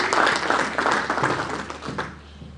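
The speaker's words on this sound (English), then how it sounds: "I think we all deserve a round of applause for the" A round of applause from a conference audience, dense clapping that starts strong and tapers off over a couple of seconds.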